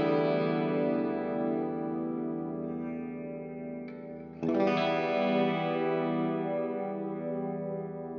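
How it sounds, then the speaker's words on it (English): A sustained, heavily reverberant electric guitar chord through an ML Sound Lab Amped Oracle rings out and slowly decays, then a second chord is struck and washes into a long, shimmering tail. "Lots and lots of reverb."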